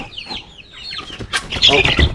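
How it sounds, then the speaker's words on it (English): A bare neck chicken in a brooder gives a few soft, chirpy clucks, then a louder, busier burst of fowl noise with a rustle of movement near the end. "That's a bare neck chicken."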